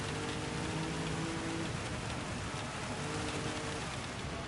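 Rain in a racing video game at night hisses as a steady, dense wash of noise, constant and unbroken, with a faint low hum under it.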